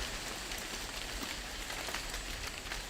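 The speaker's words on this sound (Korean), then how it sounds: "낙엽 뛰는 소리가" Dry fallen leaves pattering and skittering across the ground outdoors, a dense, steady crackling hiss with no break, moderately loud and close.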